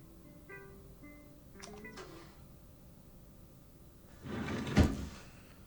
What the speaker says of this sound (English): she's opening the drawer in the game